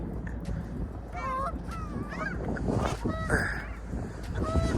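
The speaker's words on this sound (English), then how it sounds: "The geese about to come shut everything down" Several geese honking in scattered calls over a noisy background, with some voice-like sounds mixed in.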